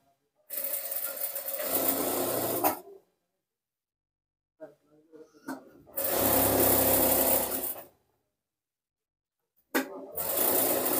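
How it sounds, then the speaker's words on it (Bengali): A sewing machine runs the side seams of plain pajamas in three separate loud bursts, separated by short silences and faint handling noises. "এখন আমরা আরেকটি হাই সেলাই করে নিব।"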